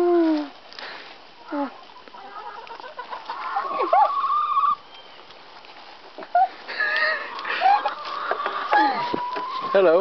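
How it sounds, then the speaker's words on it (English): Chickens cluck and squawk in irregular bursts close by, with occasional higher calls and faint voices mixed in. "Chicken."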